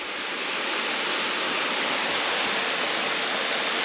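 Water pouring steadily from a bucket camping shower held overhead, a continuous hissing splash that stays loud and even throughout with no voices.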